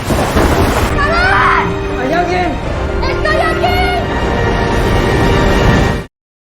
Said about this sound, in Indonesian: kapal pengangkut mengalami goncangan hebat akibat hujan dan badai.